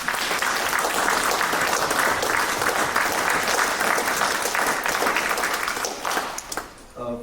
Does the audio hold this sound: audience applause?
yes